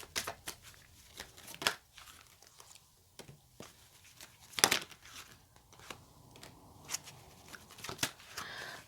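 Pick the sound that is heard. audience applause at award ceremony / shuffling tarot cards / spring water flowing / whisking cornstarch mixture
shuffling tarot cards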